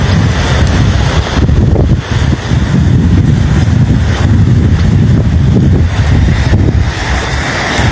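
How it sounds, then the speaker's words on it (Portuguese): Strong wind on the shore of the Lagoa dos Patos at Arambaré, a loud steady roar buffeting the microphone, with rushing surf from the high lagoon water mixed in and continuous throughout. "O vento é assim, ó."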